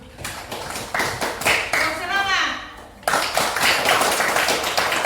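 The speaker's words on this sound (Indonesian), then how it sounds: "tepuk tangan buat Shalom" Students in a classroom give a brief round of clapping for a classmate, scattered claps mixed with a teacher's voice talking over them.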